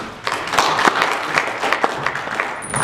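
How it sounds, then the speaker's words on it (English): A round of audience applause at a peace-research presentation, a burst of clapping from a modest crowd with individual claps standing out, fairly close and moderately loud. "you can give me a better round of applause."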